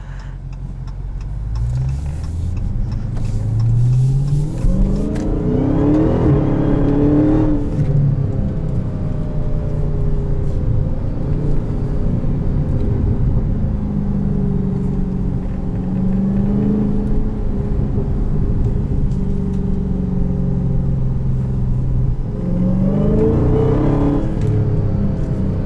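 A 2018 Dodge Charger Hellcat sedan with 700 horsepower revs hard while driving, its engine rising in pitch through several loud climbs with gear shifts between them under a constant close rumble.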